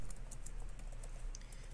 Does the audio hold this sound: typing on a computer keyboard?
yes